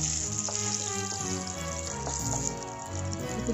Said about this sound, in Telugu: ఫస్ట్ పోపుకి ఇలా వెల్లుల్లి రవ్వని చిత కొట్టుకుని వేసుకుందాం.